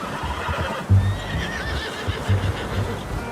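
A horse in Red Dead Redemption 2 whinnies in a wavering, drawn-out call at moderate distance, with a couple of low snorts and hoof thumps around it, and no voices.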